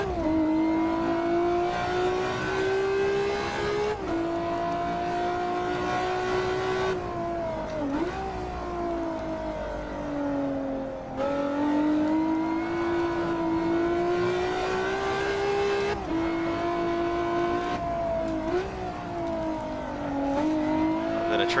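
Ferrari F50 engine in Assetto Corsa, revving hard through gears with rising and dropping pitch, its note echoing off concrete barriers and trees; a loud, continuous, reverberant scream with brief dips at each shift.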